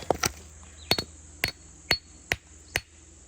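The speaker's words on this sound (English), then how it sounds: "I might have to take the hammer to that." Hammer striking hard rock to break out an agate nodule in Kentucky: about seven sharp, ringing metallic blows spaced roughly half a second apart, close and distinct over a quiet outdoor background.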